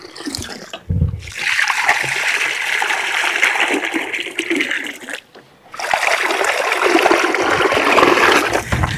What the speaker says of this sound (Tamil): ஒரு முக்கா கட்டை வர மாதிரி ஊற்றிக்குவோம் இந்த கட்டையில.